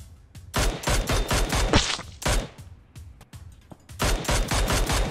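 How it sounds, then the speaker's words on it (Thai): Long-range gunfire in a video game comes in rapid bursts of loud shots separated by short pauses, with a quieter stretch in the middle before heavy firing resumes. "ยิงระยะไกลไปหน่อยมันก็ยิงยากเหมือนกันเนี่ย"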